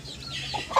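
Chicks raised by a pet duck: soft, close clucking and cheeping over faint background noise, ending in a brief brighter peep.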